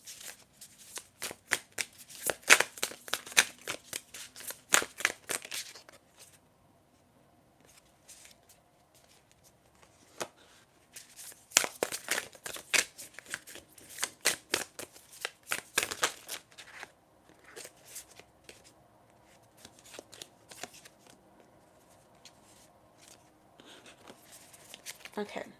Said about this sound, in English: I'm going to shuffle for more cards for you after